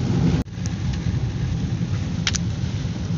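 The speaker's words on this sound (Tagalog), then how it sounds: "nag-wiper na po kami at maulan na talaga, lakas na ng ulan" Heavy rain pours down on a car driving through Albay, a dense steady roar on the roof and glass with a brief dropout and a few faint squeaks of the windshield wipers.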